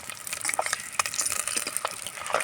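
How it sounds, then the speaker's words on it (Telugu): Boiled eggs fry in a spiced masala in a pan. A close, crackling sizzle is broken up by frequent light scrapes and pops as the eggs are turned. "వీటిని ఫ్రై చేసుకోవాలన్నమాట ఈ బాయిల్డ్ ఎగ్స్ని"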